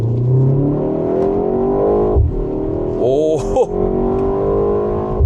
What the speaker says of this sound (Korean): 스포츠 모드 넣으니까 막 뒤에서 막 팝콘 터지고 막 변속 충격 있고